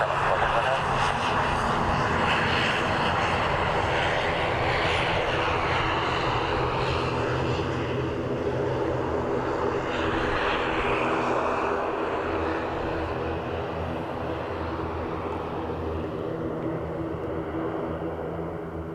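An aircraft landing at Dublin Airport gives a steady, broad engine roar that fades slightly toward the end, with faint radio-style voices in the background.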